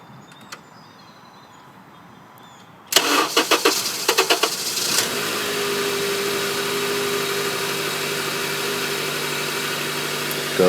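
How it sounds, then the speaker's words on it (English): Acura TSX engine cranking with a rapid stuttering whir for about two seconds, then catching and settling into a steady, even idle hum close by. "I'm going to just start the car one more time"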